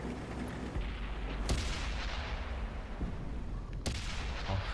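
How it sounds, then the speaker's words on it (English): Heavy gunfire hitting a tank in World of Tanks, two sharp loud impacts about two seconds apart over a constant rumbling engine and battle noise. "I'm getting shot at."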